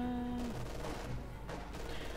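Gunfire on an M10 tank destroyer in the Company of Heroes 2 strategy game, heard as a dense, crackling burst of shots that runs through the whole short moment with a sharper hit near the middle.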